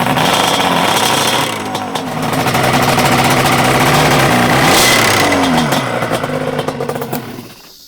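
ATV engine with a bent shift drum revving loudly and continuously, pitch rising and falling through repeated throttle swells, close by, then cutting off abruptly at the end.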